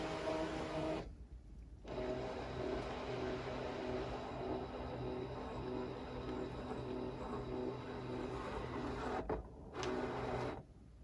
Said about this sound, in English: when you hit start, it's going to scan in your whole mat